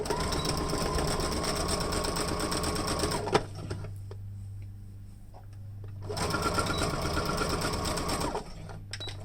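A sewing machine stitching diagonally across fabric to make bias tape strips, a loud steady motor whir in two long runs separated by a quieter pause, no talking.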